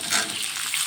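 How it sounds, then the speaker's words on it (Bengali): Chopped onion sizzles and crackles in a hot pan as it is stirred, a steady close frying hiss with soft scraping throughout and no talking. "পেঁয়াজটা একটু নেড়ে চেড়ে দিয়ে দিলাম।"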